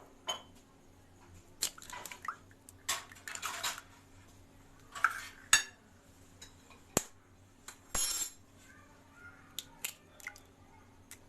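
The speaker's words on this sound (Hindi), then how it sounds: "तो अभी हम एक लेंगे बॉल और उसमें 2 एग्स जो हैं वो तोड़ देंगे" Two eggs cracked into a bowl while making pizza toast, with sharp clicks and taps of shell against the rim, wet drips and soft squishes in a quiet kitchen.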